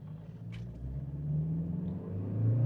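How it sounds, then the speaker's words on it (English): A 2026 Toyota Hilux launches in sports mode, its engine building from a low rumble to a rising, louder pull over a few seconds, heard from close by. "let me just show you how the initial torque is with a bit of a launch"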